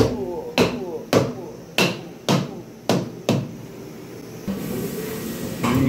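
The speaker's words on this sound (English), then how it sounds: "Dead blow hammer." Seven dull, heavy thuds from a dead blow hammer strike at an uneven pace beside a Haas VF4 CNC mill, each a solid thump with little ring, followed by a hissing rush.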